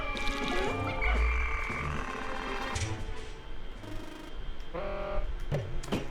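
Frog croaks in the Pikmin video game, a run of warbling, buzzy calls sounding several times over six seconds alongside game effects, fairly loud and close with no speech.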